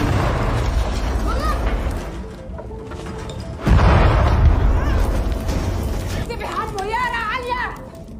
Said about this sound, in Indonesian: Kemudian terdengar kembali ledakan di apartemen lantai bawah.